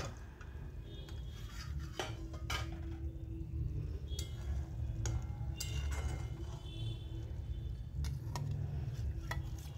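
Paneer pieces go into a simmering gravy and are stirred, producing soft, scattered clinks and scrapes of a utensil against the pot over a quiet bubbling, fairly faint and close.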